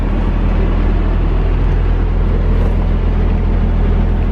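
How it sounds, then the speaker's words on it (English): A 2019 Audi S4 engine idles with a steady, deep exhaust rumble, continuous and fairly loud throughout with no talk over it. "That exhaust note, man, thing sounds mean, and it's just an idle."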